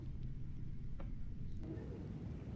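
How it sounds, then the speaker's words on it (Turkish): Steady rain and a low rumble of thunder in the Roblox game Brookhaven, a constant wash of rainfall with a faint crack partway through, heard alone without talk. "Hiç beklemezdim yağmur yağıyor."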